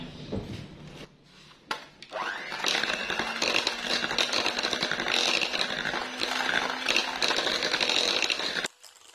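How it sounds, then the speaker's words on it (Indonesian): Electric mixer beating durian nastar dough, a loud buzzing motor whir running continuously for several seconds before cutting off abruptly. "Tidak perlu terlalu lama kita mixer, cukup seperti ini saja"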